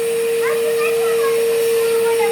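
A household vacuum cleaner runs steadily and loudly during house cleaning, a constant motor whine with a strong steady tone, while a voice talks faintly over it.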